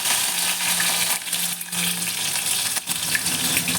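Cumin, garlic and green chilies hiss and sizzle steadily in hot oil in a steel kadhai, a close, continuous frying crackle with a few brief dips.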